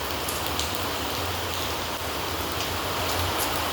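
Rain falls in a steady, even hiss of drops with no other sounds or voices over it.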